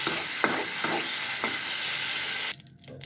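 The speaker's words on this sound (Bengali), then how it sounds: "আলুগুলো ঢেলে দিলাম। ঢেলে এই আলুগুলো কষিয়ে নিব।" Potatoes sautéing in hot oil in a pan, a loud steady sizzle and hiss with a few soft stirring scrapes, which drops away sharply in the last half second.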